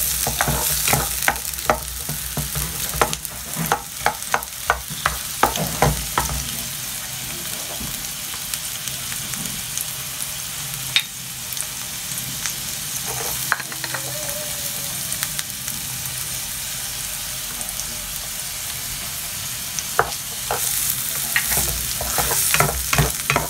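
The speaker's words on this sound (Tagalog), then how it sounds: "Gisahin lang natin ang sibuyas, bawang, at saka beef." Onion, garlic and beef sauté in a pan for string beans con carne. A steady sizzling hiss runs throughout, broken by a cluster of scraping, clinking stirs near the start and a few more later, with no talking.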